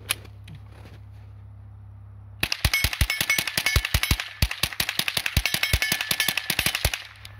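A GSG-15 .22 caliber rifle fired in a rapid magazine dump outdoors, a dense string of sharp cracks following a brief quiet start.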